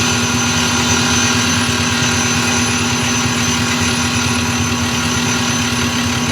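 A Highland Park SM1 shaping machine grinds a workpiece with its wheel, giving a loud steady motor drone with a fixed hum and a continuous gritty grinding texture. It is close and unbroken, with no voices.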